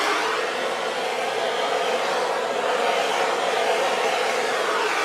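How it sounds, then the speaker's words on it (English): A torch blows a steady, loud broadband hiss over fluid art paint, running continuously without pauses or voices. "Hit it again really quick with a torch."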